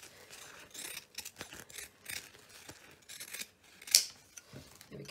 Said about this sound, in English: So I'll just trim down this other side.